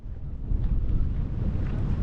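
Strong wind buffeting the microphone outdoors on a hike in Svalbard, a steady low rumbling roar throughout with no voices.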